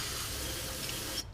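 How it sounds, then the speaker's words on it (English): Carburetor cleaner sprayed onto a removed VTEC spool valve part from a 2010 Honda Odyssey, Pilot, MDX or Ridgeline engine, a steady close hiss running more than a second before cutting off abruptly. "So I'm going to clean with the carb cleaner."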